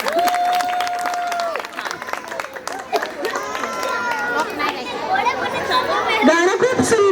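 Scattered, modest applause from an audience after a song at a Makar Sankranti program, mixed with lively crowd chatter and voices talking over it.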